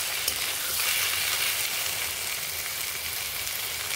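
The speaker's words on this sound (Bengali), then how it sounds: "এখন এইটার সাথে এভাবে সুন্দর করে ভেজে ভেজে এটা ঝুরি করে নেব" Loitta fish fries in a pan while being broken into crumbs, giving a steady, close, dense sizzle that holds evenly for the whole stretch with no voices.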